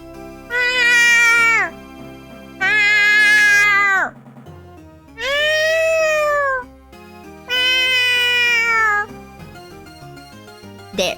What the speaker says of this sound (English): There, that's a cat.